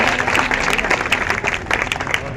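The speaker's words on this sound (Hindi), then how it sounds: "तालियां तो बजा दीजिए सबकी मेहनत के लिए।" Steady, dense applause from a crowd at a women's Mission Shakti event at the Bareilly Collectorate, many hands clapping at once throughout with no pause.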